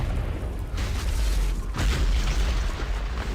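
An Azerite-powered tank firing in World of Warcraft, heavy deep booms and rumbling blasts that fill the whole stretch with low, sustained power and no voices.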